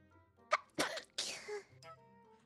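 Someone sneezes sharply and nearby, with a short quiet build-up before the burst; an online party game's faint background tones play underneath.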